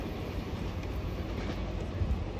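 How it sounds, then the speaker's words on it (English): A Caltrain commuter train rolls past at Santa Clara station, a steady low rumble of wheels and rail noise without distinct clacks, moderately loud and continuous with no talking. "that train is on its way to San Francisco."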